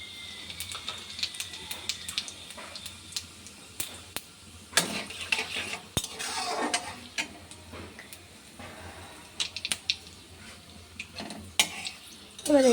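Two dried red chillies and cumin seeds spit and sizzle in hot oil in a wok (kadai), a patchy crackling with scattered sharp ticks and clinks of a utensil, close and moderately loud, no talking.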